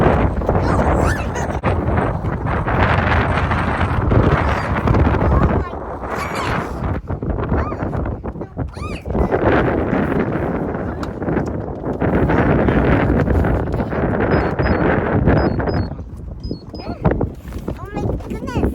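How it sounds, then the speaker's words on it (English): Strong wind blows outdoors on a cold day, roaring and buffeting the microphone in continuous loud gusts, while someone talks excitedly through it. "Hey, it's so windy outside."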